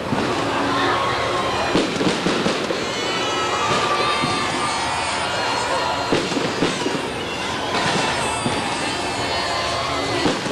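Fireworks crackle and pop continuously, dense and loud, while a crowd cheers and shouts throughout.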